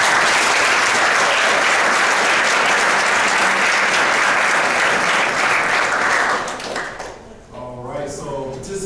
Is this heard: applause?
yes